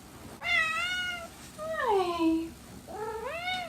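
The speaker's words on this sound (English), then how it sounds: "My cat is crying because I shut my bedroom door" A cat meows repeatedly behind a shut bedroom door, three drawn-out, rising-and-falling cries at moderate distance, with a brief spoken word at the start.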